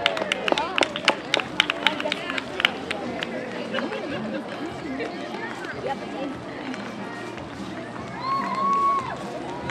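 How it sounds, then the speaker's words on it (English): Scattered hand claps and a murmuring crowd greet the Cheer Magic cheerleaders at the 2017 Littleton holiday parade. Sharp claps are clustered early, then a steady outdoor hubbub continues with some voices. "A big hand for Cheer Magic and the Cheer Magic cheerleaders"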